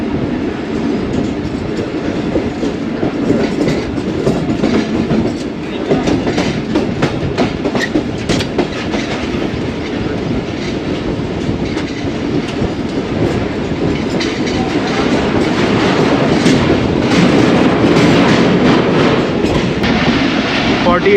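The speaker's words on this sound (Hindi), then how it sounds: "टाउन रहमान बाबा एक्सप्रेस गुजर रही है।" Rehman Baba Express train rolling past on Pakistani rails, a steady loud rumble with rhythmic clickety-clack of wheels on track joints, growing slightly louder toward the end, heard from aboard another train.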